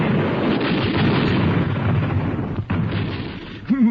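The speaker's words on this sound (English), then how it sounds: "showing the men in the field just how this machine gun operates in action" Machine gun firing in a field demonstration of the weapon in action, a dense, continuous roar of rapid blasts lasting several seconds before cutting off abruptly.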